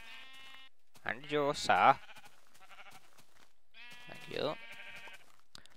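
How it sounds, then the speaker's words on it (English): Sheep in the Minecraft video game bleat twice in quick wavering calls near the start, then once more later, with a person speaking briefly between them. "Give me your wool, sheep."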